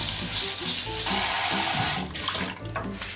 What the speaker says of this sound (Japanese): お米も3合だけ洗います